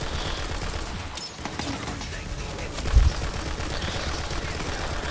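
Shotgun blasts and gunfire from the Borderlands video game crackle densely throughout, with a heavier, louder boom near the three-second mark over continuous game noise.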